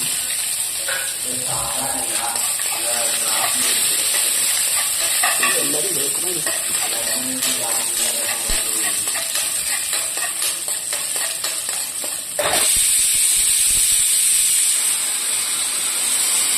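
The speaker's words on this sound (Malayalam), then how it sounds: "നമുക്കിനി ചുമന്നുള്ളിയും വറ്റലമുളകും കറിവേപ്പിലയും കൊടുക്കാം" Shallots, dried red chilies and curry leaves sizzle and crackle steadily in hot oil after mustard seeds, with occasional stirring scrapes, and a sudden louder burst of sizzling near the end.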